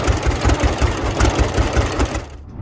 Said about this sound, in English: That pop-pop exhaust has its own nostalgic allure.